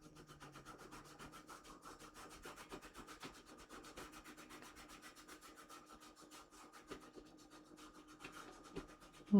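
Soft, quiet rubbing of a cloth over the scratched case of a Cambridge Topaz SR20 amplifier, a steady rhythmic back-and-forth swish repeated many times at close range with no voices.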